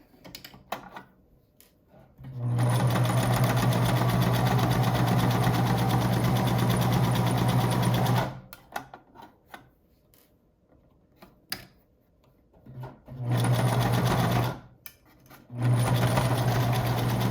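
A sewing machine stitches a silk mask in two long runs, a steady close whir with a strong low hum, separated by quiet pauses with small handling clicks.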